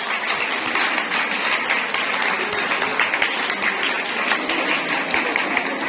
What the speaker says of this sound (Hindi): आप सबकी तालियां रुकनी चाहिए जब तक मिस मीला मुझ तक नहीं पहुंचती